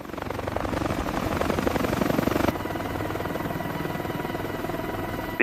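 A CH-53K heavy-lift helicopter, the largest American helicopter built, runs close by with a loud, steady rotor and turbine roar that holds without a break for the whole stretch.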